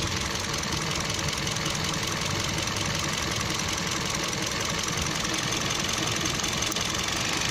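A misfiring Toyota Vios engine runs steadily up close, a dense, unbroken mechanical clatter with a faint knocking rhythm and no voices.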